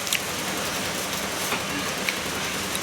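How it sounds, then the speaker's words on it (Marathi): Heavy rain falls steadily on a rainy day in the Konkan countryside, a dense continuous hiss with occasional louder drips, close and even throughout with no talking. "मस्त पाऊस पडतो."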